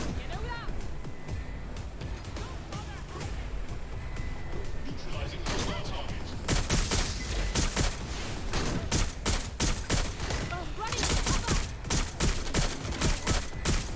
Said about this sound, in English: These are grenades, I reckon.